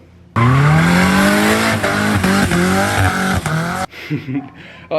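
A slammed Nissan 240SX is driven hard: loud engine revving with rising pitch sweeps and tire squeal, continuous for about three seconds before dropping away to quieter background noise.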